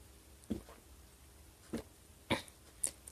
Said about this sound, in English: Hopefully that will reduce my coughing a little bit